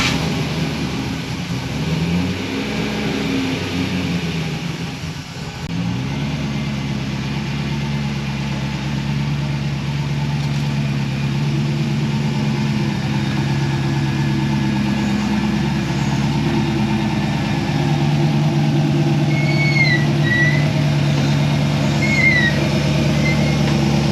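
Rock bouncer off-road buggy engine running steadily at a low, rumbling pitch, close and continuous for the whole stretch with only slight changes in load as it drives.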